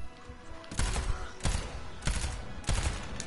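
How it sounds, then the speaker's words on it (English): Burst gun of a new character in the video game Overwatch, firing four short rapid volleys at roughly even intervals, loud and close, with a brief gap between each burst. "Don't like his burst gun"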